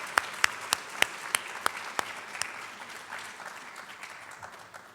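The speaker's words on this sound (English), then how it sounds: "I think we need another round of applause for these students for their service to our campus community." An audience at a college honors night applauds students, with sharp, evenly spaced claps close by over a softer patter that fades over a few seconds.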